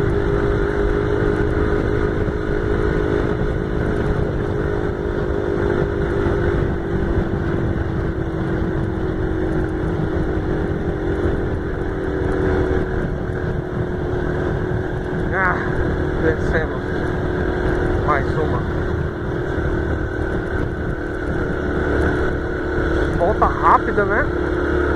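A Yamaha Factor motorcycle rides through Parque dos Poderes in Campo Grande, MS, its engine holding a steady, close drone as it accelerates, with wind buffeting throughout and a person talking over it.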